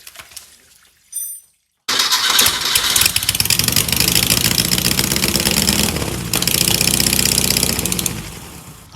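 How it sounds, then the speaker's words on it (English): A water-logged Type 4 Porsche VW engine from a 914 restoration cranks briefly, then catches and runs loud and close with a rough, steady idle, the tone shifting slightly partway through. "Type 4 Porsche VW engine, we got it running."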